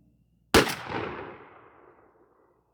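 A single sharp blast from a 12-gauge Remington 11-87 shotgun firing a Herter's Strutter 2-3/4 inch #5 shell, a loud close report followed by a long fading echo, preceded by a brief quiet stretch.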